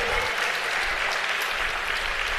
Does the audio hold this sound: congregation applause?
yes